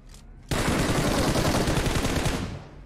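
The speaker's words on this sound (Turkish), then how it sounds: "Kim sıkıyor lan bana?" Rapid automatic gunfire from a multiplayer shooter game erupts suddenly and stays loud and continuous for about two seconds, a dense rattling burst close up before tapering off, with no talk over it.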